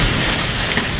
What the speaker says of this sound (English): we are getting a nasty storm. Right now I'd have to say quarter size hail